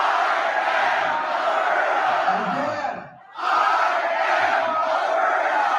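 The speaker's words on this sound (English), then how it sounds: "that is a big crowd. Let's hear the crowd again." A dense roar of a large crowd of thousands chanting, loud and sustained, with voices blending into a steady wash; it drops out briefly midway, then surges back at full strength.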